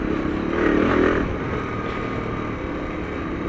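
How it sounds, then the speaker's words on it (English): A motorcycle rides slowly along narrow country lanes at about 20 to 25 mph after a small wheelie, its engine a steady, close drone that swells briefly, with no talking. "can't really go too fast with this bike anyway"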